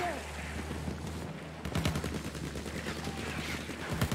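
Gunfire in the video game Battlefield 1 rattles on as rapid, steady bursts of shots across the clip, growing louder partway through over a dense battle background.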